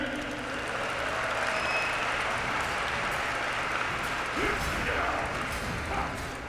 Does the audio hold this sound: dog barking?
no